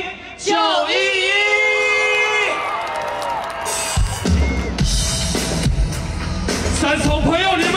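A concert crowd cheers and screams to welcome a band at a charity show. A loud, sustained roar rises with whoops and yells, a voice sings or talks over it, and musical tones start partway through.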